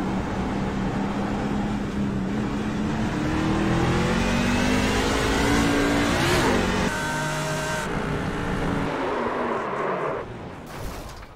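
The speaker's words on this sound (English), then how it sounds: "A troca de marcha desse carro tem um barulhinho de bater na borboleta" A race car engine in the iRacing sim at Monza climbs in pitch, with a sharp paddle-shift click and a drop in revs at the gear change midway. It then pulls up again, loud and close, with no talk.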